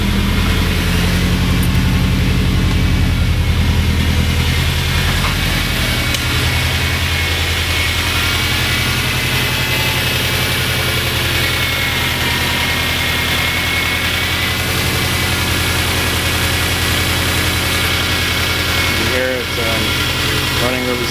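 A Subaru Impreza GC8 Type-R STI engine idles loudly and steadily up close in the engine bay, a deep continuous drone running solidly with a person talking over it.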